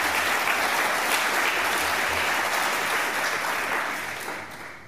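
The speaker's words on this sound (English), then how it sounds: "I think we should give him a round of applause" A conference audience at a GNOME Foundation annual general meeting breaks into sustained, loud applause, a steady wash of many hands clapping that eases off slightly toward the end.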